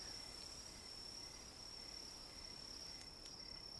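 Crickets chirp at night in a steady, faint high-pitched trill that continues unbroken, quiet and alone with no other sounds.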